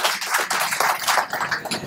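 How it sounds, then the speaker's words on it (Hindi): An audience applauds to welcome a chief guest at a community gathering, steady dense clapping from a crowd for about two seconds with no talk. "ऐसे व्यक्ति के लिए जोरदार तालियों से स्वागत करना चाहिए।"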